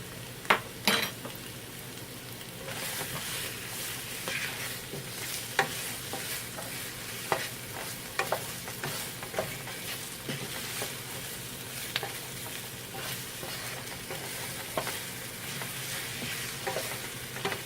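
Ground beef and vegetables sizzle and fry in a pan as a utensil stirs them, with steady hissing and repeated scraping clicks throughout, no voices.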